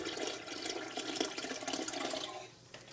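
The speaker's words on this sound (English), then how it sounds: "We're going to add a little more water." Water pours into a pressure canner holding jars, a continuous splashing, gurgling flow at moderate loudness that eases off near the end.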